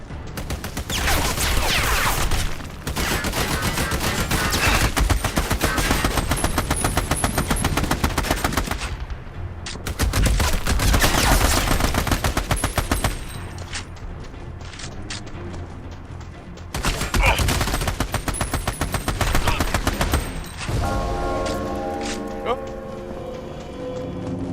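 Video game gunfire with rapid automatic bursts and sniper shots crackles loudly in long volleys, broken by short pauses, while voices shout over the shooting.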